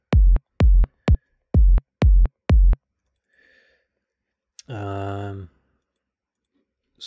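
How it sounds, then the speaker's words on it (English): A techno kick drum with a sharp click on its attack thumps six times in an even rhythm, loud and punchy with silence between hits, followed by a brief voice. "Now this kick has actually got a bit of a click on it."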